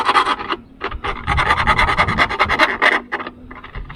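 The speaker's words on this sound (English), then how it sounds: "I'm just going to go around it with a file" A metal file rasps around freshly drilled 8.5 mm and 11 mm holes in a genuine Honda optional spoiler for a Jazz, giving repeated close scraping strokes in a steady rhythm with short pauses between passes.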